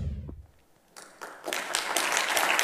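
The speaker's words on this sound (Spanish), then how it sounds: "se escucha el aplauso de los que están aquí con nosotros" Applause from an audience gathered at a science and mentoring event, starting after a quiet moment with a few scattered claps and swelling into steady, fairly close clapping.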